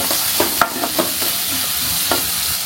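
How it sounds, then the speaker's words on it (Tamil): Small onions sautéing in a pan for a mutton intestine curry, a steady close sizzle with a few spoon scrapes and stirring taps, no voices. "சின்ன வெங்காயம் போட்டு நல்லா வதக்கி எடுத்துக்கணும்"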